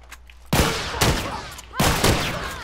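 Loud gunfire from The Last of Us multiplayer bursts out in two volleys, a sharp crack followed by a rapid barrage and then another crack and burst, each trailing off in echoing reverb with no talk over it.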